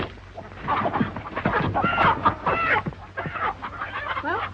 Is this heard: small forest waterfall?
no